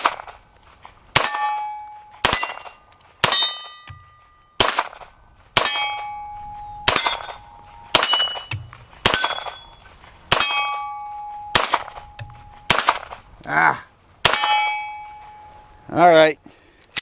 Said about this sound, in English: Beretta M9A3. Definitely a straight shooter, a well put together firearm